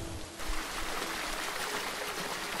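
A rushing stream flows at night, its broadband water rush steady and fairly loud throughout, with no voices over it.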